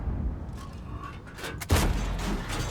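In World of Tanks, the AC-4 tank gun fires one heavy, punchy boom near the middle, with rumbling battle ambience before it and a lingering reverberant tail after it.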